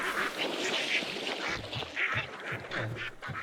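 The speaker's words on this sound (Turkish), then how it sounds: "Evet burada bir ördekler var. Ördekleri uçuralım. Sesini bir duyun." Video game sound from Hunt: Showdown: loud, continuous quacking from several ducks with a flurry of wing flaps as they take off, close and busy throughout.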